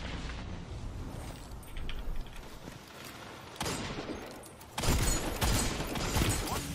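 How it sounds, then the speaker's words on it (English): A grenade detonating during a Destiny 2 PvP match, amid rattling gunfire and a tense firefight; loud, dense bursts of blasts and shots, with a heavier eruption late in the clip. "Oh, he actually threw a grenade."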